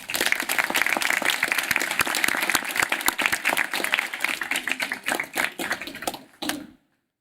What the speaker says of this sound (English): Graduates, give your parents another round of applause.